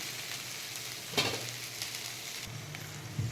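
Okra sizzling in a pan as it is stirred, a close steady frying hiss broken by a couple of scraping stirs, with no voices.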